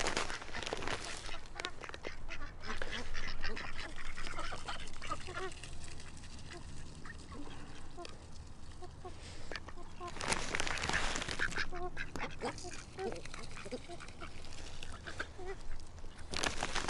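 Ducks quack repeatedly in bursts, some calls close and loud, others scattered in the background, mixed with outdoor noise and someone talking intermittently.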